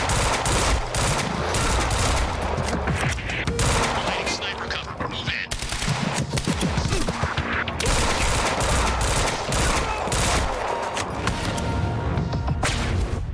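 Gunfire in the video game Quantum Break, dense and loud throughout, with continuous machine-gun bursts and overlapping shots that leave almost no pause.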